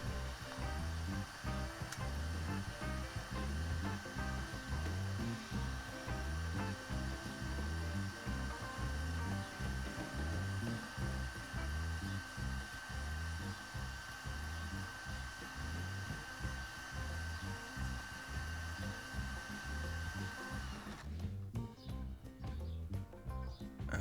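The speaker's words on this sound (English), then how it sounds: "polish the axles with the drill and a little bit of envy paper" A steady, continuous whir of a power drill polishing toy car axles with emery paper, with a faint rhythmic scraping pulse, then a brief clattering shift near the end.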